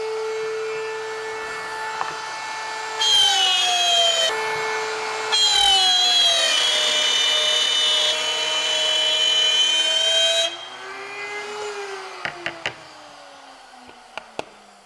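Wood router cutting dados in wood, a loud steady high-pitched whine that rises and shifts in pitch as the bit bites, with louder bursts mid-clip, then spins down into a fading tone near the end.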